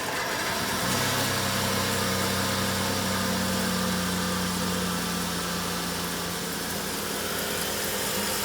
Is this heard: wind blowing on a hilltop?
no